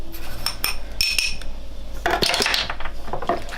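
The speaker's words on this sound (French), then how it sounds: "Et je mélange bien en le mettant dans la petite mixture." A spoon clinks and scrapes against a container while mixing a baking soda and water mixture, with irregular sharp taps and a swirl of scraping, close and fairly loud over a low steady hum.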